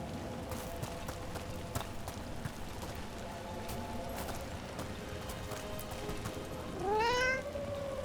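A cat in Dragon Age: The Veilguard gives a clear, rising meow near the end, loud against a steady bed of game ambience with faint clip-clop-like taps.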